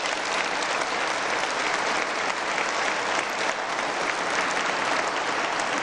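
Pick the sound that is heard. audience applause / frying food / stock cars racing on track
audience applause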